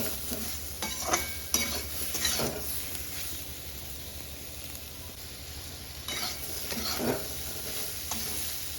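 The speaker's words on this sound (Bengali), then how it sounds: "এবার আমি একটু ভালো করে আবারও ভেজে নেব।" Eggplant frying with turmeric in a pan while being stirred, a steady moderate sizzle broken by repeated scraping and clattering strokes of the spatula in bursts, no speech.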